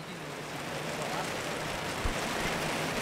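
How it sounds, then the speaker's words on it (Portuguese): Heavy rain pours steadily over an outdoor football match, a dense continuous hiss with a faint thump partway through. "E a chuva pegando tudo aqui"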